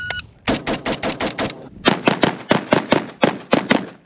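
IWI Gen 2 Galil ACE rifle firing 7.62x39, two rapid strings of sharp, loud, close shots, about six and then ten reports in an even cadence with a brief pause between, no talking.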